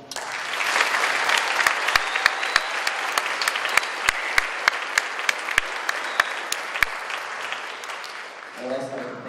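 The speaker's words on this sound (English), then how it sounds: "Can we get a round of applause?" Audience applause at a school fall concert: dense, loud clapping from a large crowd lasting several seconds with sharp individual claps standing out, fading near the end.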